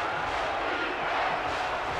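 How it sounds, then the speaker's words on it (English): Stadium crowd roaring at fever pitch in an Ole Miss college football video game on third and short, a steady dense wall of cheering throughout with no break. "The crowd at a fever pitch right now"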